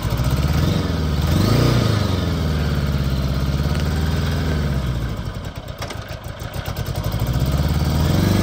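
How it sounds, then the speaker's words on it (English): A 1976 Honda Goldwing GL1000 K1 motorcycle engine runs close by, loud and steady, with a brief rise in revs early on and a rougher, pulsing idle later. "Honda Goldwing GL1000 K1 1976."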